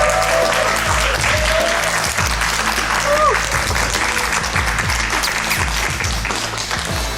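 A studio audience at a televised lecture show greets a guest author with sustained, dense applause lasting the full stretch, loud and close, with crowd noise and a brief musical tone mixed underneath.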